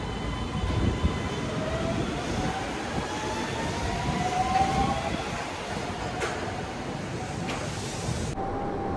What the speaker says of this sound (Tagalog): So medyo nagbabounce yung train kasi